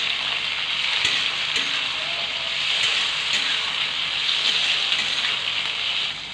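Fish frying in hot oil in a pan while cooking green jackfruit curry, a loud continuous hissing sizzle with faint crackles and small pops, steady and close throughout with no voices.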